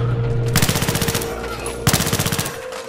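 Rapid automatic gunfire in Battlefield 3 comes in two loud bursts of evenly spaced shots, each lasting about a second, separated by a short pause, with a steady mechanical hum underneath.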